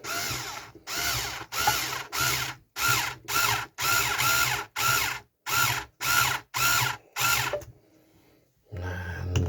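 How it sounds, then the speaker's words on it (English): A power drill bores holes in an aluminium drink can for a two-can penny stove, whining in a series of short bursts separated by brief pauses, close and clear, ending in a longer quiet gap and a final burst. "So the last 2 holes tend to be the hardest to drill."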